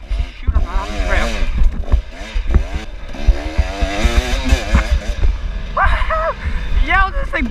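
A dirt bike engine snarls and revs up and down in quick surges while it is ridden over a bumpy off-road trail, loud and close, with a rider's voice talking over the engine.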